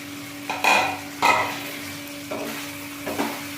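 Fried broccoli is tipped into a pan of sizzling masala and stirred, giving a handful of scraping, clattering bursts over a low, steady sizzle.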